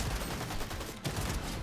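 Gunfire in Fortnite rattles in a dense, continuous burst of shots, loud and close, with no talk heard.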